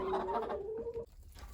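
A single chicken lets out a drawn-out, wavering cluck-like call up close, trailing off into quiet rustling.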